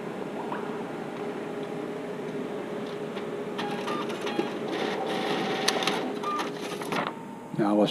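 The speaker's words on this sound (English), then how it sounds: "Okay, let's print that." A Ricoh printer runs a page, its mechanical whirring and clicking rising partway through over a steady room drone, with a voice heard over it.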